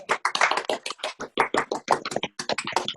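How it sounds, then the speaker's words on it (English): Several Zoom meeting participants clapping together over their own microphones at the close of an online meeting, a close, steady patter of scattered claps running for a few seconds. "if you'd like to unmute yourself and give Ronnie a round of applause"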